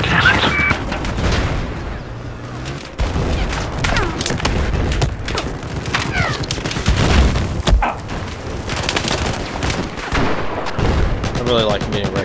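Battlefield 4 gameplay on the Dragon Pass map during a Conquest match, with dense overlapping gunfire, booms and explosions throughout, and players talking over the battle.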